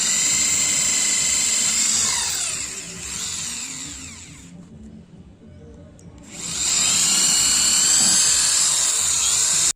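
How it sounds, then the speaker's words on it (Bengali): A Mailtank SH-30 impact drill bores into a board with a loud high-pitched whine that dips and sweeps, stops briefly in the middle, then spins up again and keeps going. "প্রথমে এখানে আমরা একটা বোর্ড ড্রিল করব"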